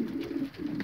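Pigeons coo softly in a breeding loft, a low throaty warbling that rises and falls in short phrases, close by.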